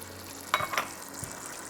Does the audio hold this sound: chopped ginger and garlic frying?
yes